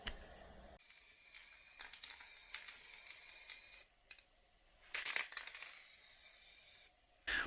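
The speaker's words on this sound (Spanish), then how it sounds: "voy a darle otra capa de pintura, a pesar de que también yo ya había pintado el guardabarro" Long steady bursts of an aerosol spray can painting a fender and screw on a Xiaomi M365 electric scooter, loud hissing with brief pauses and a few clicks and rattles between passes.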